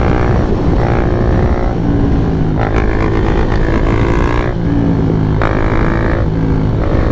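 KTM Duke motorcycle engine roaring loud and close during a sixth-gear wheelie, with sustained revving that rises and falls in surges and no speech over it.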